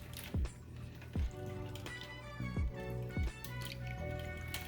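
Brisket cooking liquid is poured from a sous vide bag through a small spout with gurgling, glugging pulses in several irregular bursts, close and fairly quiet, with no talking.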